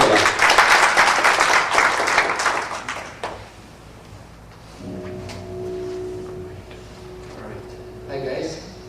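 Audience applause for a guest speaker at a World Future Society event, loud clapping for about three seconds that then stops abruptly, followed by quieter room sounds, a tonal hum and a voice starting near the end.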